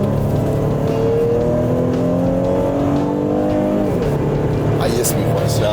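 A naturally aspirated car engine revs up in a few rising pulls, loud and close, then drops back toward idle, with a voice talking over it.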